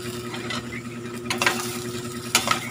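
Shredded cabbage is tossed into a frying pan and stirred, giving a low sizzle with a few sharp scraping and clattering bursts of the spatula against the pan, close and alone without talk.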